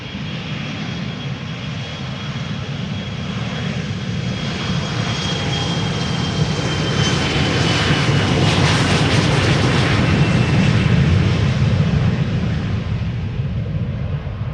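A KLM jet departs Amsterdam Schiphol for Hamburg, its engine roar close and loud, swelling steadily to a peak as it passes and then easing slightly, with a thin whine riding on top.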